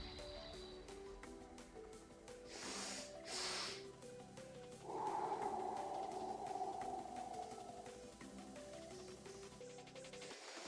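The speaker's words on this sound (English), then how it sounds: "forced quick breaths inwards, so a long and a short one. So the second one is just to super inflate the lungs and then breathe out all the way out" A person breathing in a breathing exercise: two forced, quick inward breaths, one long and one short, to fill the lungs, followed by a long, steady exhale all the way out. The breaths are close and clear, with no talking.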